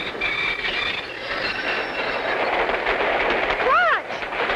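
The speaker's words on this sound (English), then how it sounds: "It looks like the train has stopped." A cartoon train rumbles and clatters along, then its wheels squeal in rising and falling screeches as it brakes to a stop.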